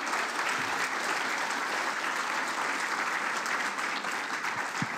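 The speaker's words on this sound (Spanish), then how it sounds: "primero le damos un fuerte aplauso al expositor por su brillante presentación" Sustained applause from a seated conference audience honouring a presenter, dense steady clapping at even loudness for the whole stretch with no voices on top.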